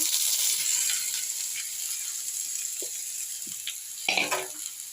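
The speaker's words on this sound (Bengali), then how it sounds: "আলুটা একটু লাল করে ভেজে নেব" Diced potatoes fry in white oil in a wok, giving a steady bright sizzle with a few stirring scrapes and knocks near the end.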